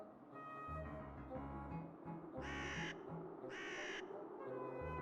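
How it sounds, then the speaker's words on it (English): Crows in the adventure game Whispered World caw loudly in two harsh bursts over a steady ambient music bed, with other bird calls around them. "The birds seem to be irritated."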